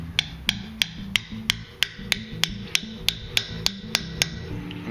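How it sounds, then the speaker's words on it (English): A blacksmith hammers a chisel to split forged metal into fork tines, sharp metallic strikes landing at a regular, steady rhythm about three per second over a low background hum. "Now we're going to switch over to the chisel so I can separate the metal into tines."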